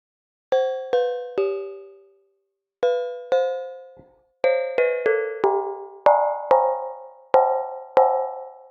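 A metal plate struck repeatedly, each hit ringing out with several bright overlapping pitches that decay over about a second, a few spaced single strikes followed by a quicker cluster of clangs.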